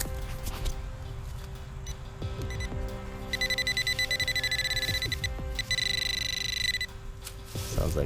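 Metal detector in a park, giving steady electronic tones and a warbling high signal in two bursts over outdoor background noise, with faint rustling and handling sounds.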